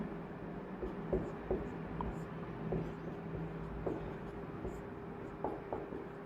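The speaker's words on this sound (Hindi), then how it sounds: "मैं शॉर्ट में लिख देता हूं ट्रांसफार्मर को" A marker or chalk scratches out short notes on a classroom board during a lesson on transformers, faint quiet strokes and small taps spaced irregularly over a low steady hum.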